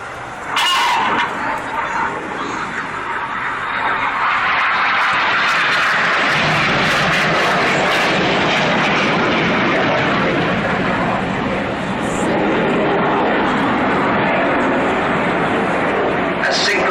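Red Arrows jets flying the Cyclone manoeuvre at the 2012 Farnborough display, a loud, continuous broadband roar that swells and holds steady, under a commentator's voice.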